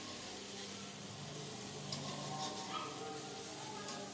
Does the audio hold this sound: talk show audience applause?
no